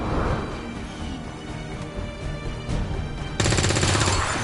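A shootout in a video game, with rapid gunfire and machine-gun bursts over a busy, loud mix of game sound, ending in a sustained dense volley.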